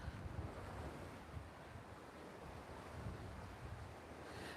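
Choppy sea at Puerto Pollensa, Mallorca: a steady wash of waves and surf under heavy wind buffeting the microphone, with a continuous, rough roar.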